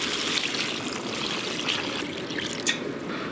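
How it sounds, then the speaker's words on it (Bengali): Water poured into chicken curry cooking in a pan, a steady close trickling and splashing stream that runs throughout without any voices. "এবার আমি পরিমাণ মতো জল দেব।"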